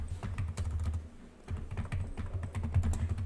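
A computer keyboard and mouse click in a rapid, uneven run of sharp taps while shapes are duplicated in Adobe Illustrator, with the Alt key held. The clicks are close and fairly loud and have one brief lull partway through.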